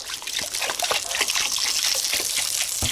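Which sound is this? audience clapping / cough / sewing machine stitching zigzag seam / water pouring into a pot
water pouring into a pot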